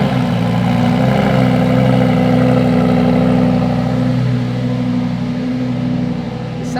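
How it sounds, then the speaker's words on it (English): A KTM car with its standard exhaust idles nearby, a steady low engine hum holding even throughout and easing slightly toward the end, with no talk over it. "Sounds like the KTM standard exhaust."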